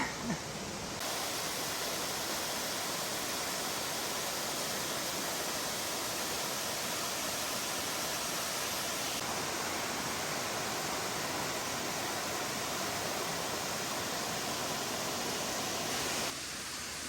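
A waterfall beside a steep mountain trail on Mt Moosilauke in the White Mountains sends out a constant loud rush of falling water, steady and unbroken throughout.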